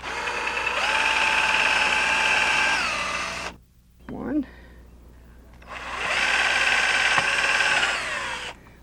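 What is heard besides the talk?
cordless drill driving into vinyl rub rail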